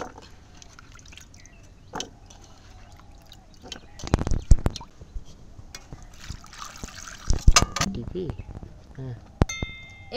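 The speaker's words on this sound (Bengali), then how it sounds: "আমি আলুটাকে একটু ধুয়ে নেব।" Raw potatoes being washed by hand in water, with quiet trickling giving way to a couple of louder sloshing, splashing bursts close by.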